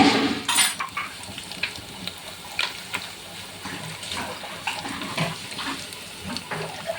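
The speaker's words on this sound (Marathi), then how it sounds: "इथे त्याच्यात जिरं, मोहरी, लसूण याचा तडका देणं चालू आहे" Cumin, mustard seeds and garlic sizzling in a bowlful of hot oil for a chili dish, a steady hissing crackle with small pops and a few metal clinks throughout.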